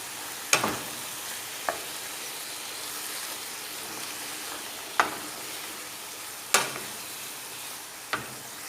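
Garlic cooking in a pan with tomatoes is stirred, giving a low steady sizzle broken by a few sharp utensil scrapes and clicks spaced a second or more apart, close and fairly quiet.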